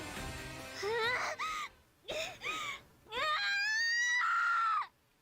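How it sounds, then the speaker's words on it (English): A character in the video game Digimon Story Cyber Sleuth screams in several bursts: short wailing cries and gasps, then a long, loud rising scream that cuts off abruptly. "That was quite a scream."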